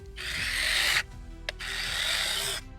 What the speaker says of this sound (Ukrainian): Щось такий звук, таке як батарея сідає.